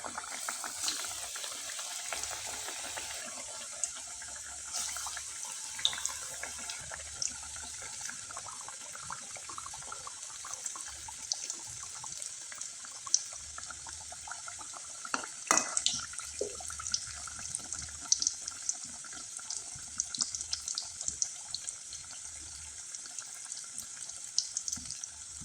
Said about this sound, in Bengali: এবার কয়েকটা পিঠা আমি আপনাদের ভেজে দেখিয়ে দিচ্ছি